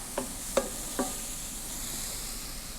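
A persillade mixture is stirred in a hot skillet: three quick clinks of the utensil against the pan in the first second, then a soft, steady sizzle alone.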